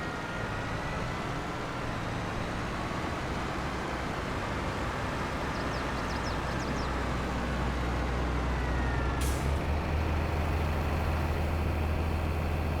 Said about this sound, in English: I'm going to turn the Valtra tractor off.